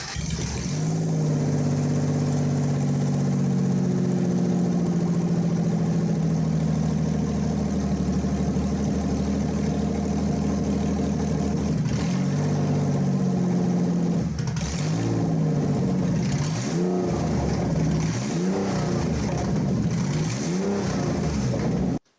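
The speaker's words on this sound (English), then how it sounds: "So the engine runs." A 6R4 replica car engine idles loudly at close range, then blips through several sharp revs that rise and fall back toward idle in the second half.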